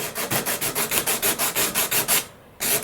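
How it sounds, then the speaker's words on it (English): Coarse sandpaper rubbed over the painted carbon composite wing tip of an RC sailplane, quick regular back-and-forth strokes, about six per second, close and loud, with a brief pause before it resumes. "all we're going to do now is use some coarse sandpaper, and we want to basically get through the paint into the carbon"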